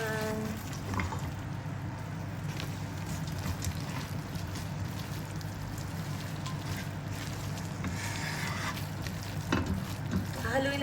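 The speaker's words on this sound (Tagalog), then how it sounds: "Hahaluin lang natin ito ng maigi guys para ma-mix yung sauce niya sa tofu" Tofu stirred in sauce in a pan, a sizzle that carries on underneath a continuous background hum, with a few faint scrapes of stirring along the way.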